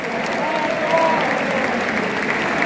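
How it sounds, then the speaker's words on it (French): A stadium crowd applauds an injured goalkeeper during a Ligue 1 football match between FC Nantes and Toulouse, a broad, sustained roar of clapping from thousands of fans, loud and continuous. "Applaudissement pour Alban, il est blessé."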